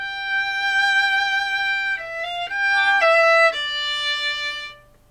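A violin plays a short melodic phrase, clear sustained bowed notes with a few quick slurred changes, solo and close, ending in a fade.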